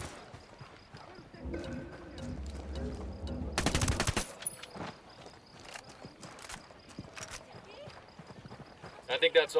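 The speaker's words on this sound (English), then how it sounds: "I'm hearing gunfire." Distant gunfire in the open-world shooter Ghost Recon Wildlands, scattered shots and short bursts heard faintly beneath game ambience, footsteps and a loud rushing burst partway through.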